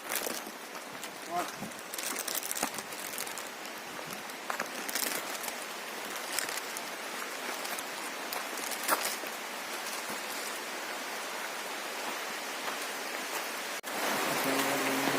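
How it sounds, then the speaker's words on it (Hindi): Steady hiss of heavy rain pattering on surfaces near Devgarh fort, dense and continuous, with occasional louder splashes and a shift near the end. "तेज़ बारिश आने के कारण यात्रा बीच में रोकनी पड़ी है"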